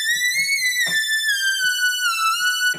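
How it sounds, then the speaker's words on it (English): Synthesized West Coast style whistle from two slightly detuned sawtooth oscillators, a clear pitched melodic line gliding between notes with faint percussive ticks underneath, loud and alone. "I added a little bit of width, and I did that by opening up a second oscillator with the exact same sawtooth, octave, and everything."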